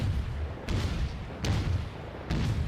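Naval guns firing in the video game World of Warships, three heavy booming shots spaced roughly a second apart, each a sharp blast that rolls away over steady loud background rumble.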